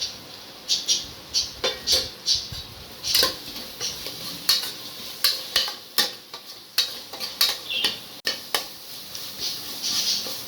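Onions and tomatoes sauté in a pot for mushroom biryani, a soft sizzle under a rhythmic series of sharp metal spoon scrapes and clinks against the pan, roughly two per second, with no talk.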